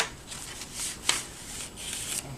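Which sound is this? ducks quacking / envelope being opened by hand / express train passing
envelope being opened by hand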